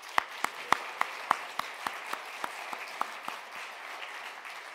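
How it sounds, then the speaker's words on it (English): Applause from a small audience at a virtual student awards concert: a handful of distinct, evenly spaced claps that gradually soften and thin out over a few seconds, with no voices. "Let's give a loud cheer"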